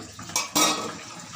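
Marinated bhetki fish pieces are rinsed in water, with a couple of bright clattering knocks of fish against a metal bowl and a brief splash, close by and alone.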